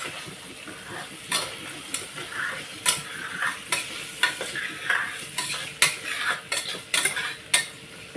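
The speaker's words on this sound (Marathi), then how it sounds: "डाळ मस्त अशी तेलावर व्यवस्थित परतून घ्यायची आहे" Dal and tomato sauté in hot oil for a spicy Khandeshi dal, a soft sizzle beneath repeated scraping strokes of a spoon against the pan, close and rhythmic.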